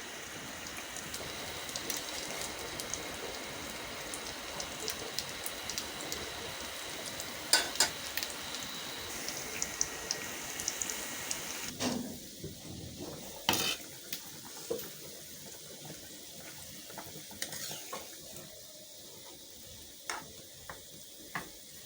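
Beef achari curry simmering and bubbling in a pot after boiling water is poured in, a steady close sizzle and crackle with occasional utensil clicks, and no talking.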